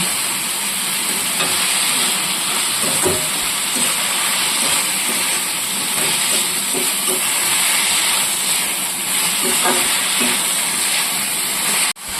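Banana flower curry with chilli powder sizzles steadily in a pan during sautéing, a dense close hiss with faint stirring scrapes throughout and no voice.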